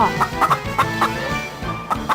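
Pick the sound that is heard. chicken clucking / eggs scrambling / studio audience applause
chicken clucking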